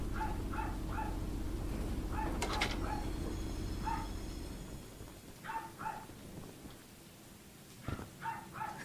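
A person imitates dog barking while playing a video game: short bark-like yelps in bursts, repeated several times over a steady low rumbling background.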